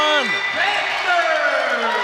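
A broad crowd roar fills a women's college basketball arena during Grambling vs. Louisville as the crowd and bench celebrate a three-point play, with a commentator's voice running loudly over the noise throughout.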